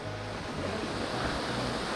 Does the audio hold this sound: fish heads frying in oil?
no